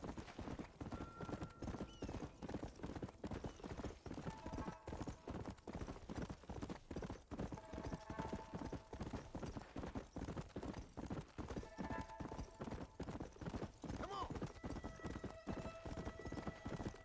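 In a video game, a horse's hooves clip-clop steadily over a long stretch, with occasional neighs and whinnies breaking through; the sounds are quiet and rhythmic, with no clear voices over them.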